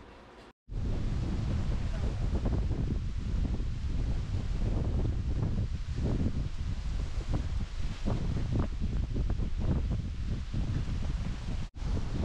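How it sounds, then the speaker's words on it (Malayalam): Strong wind buffets the microphone outdoors at a riverside fishing spot during heavy rain and flooding, a loud continuous roar with gusty surges throughout. "വളരെ ശബ്ദത്തിൽ തന്നെ പറയണം, നല്ല കാറ്റാണ്."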